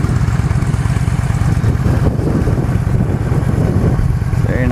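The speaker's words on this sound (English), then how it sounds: "Fires right off. 950cc air-cooled V-twin." A Yamaha V-Star 950 motorcycle with a 950cc air-cooled V-twin runs steadily up close, a loud, throbbing low-pitched idle with an even pulsing beat that holds throughout.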